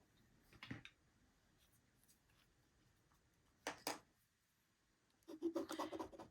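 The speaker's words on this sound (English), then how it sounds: "we are going to draw a line right from one corner to another" Marker or pencil drawing a line across quilt fabric from corner to corner, soft close scratchy strokes in three short bursts separated by quiet pauses.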